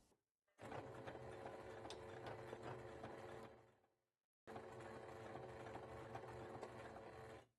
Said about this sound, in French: on va coudre jusque là